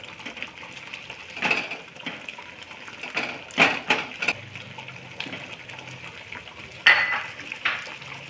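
Thick sweet potato halwa is poured and scraped from a pan in a home kitchen, with scattered clinks and scrapes of a spoon against metal, several sharper knocks, and no talk.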